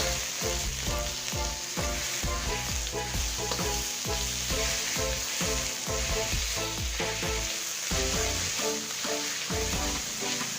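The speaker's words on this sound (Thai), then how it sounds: "ผัดเนื้อก่อนนะครับ" Beef stir-fries in a hot pan for Thai basil beef, a loud, continuous sizzle broken by rapid, rhythmic stirring and scraping strokes, close and without talk.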